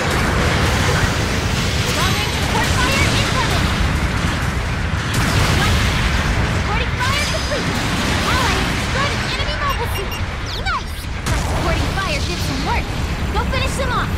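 Supporting-fire explosions in a Gundam mobile suit video game: a dense, continuous barrage of booms and blasts rolling on for many seconds, loud and near, with a voice talking over it.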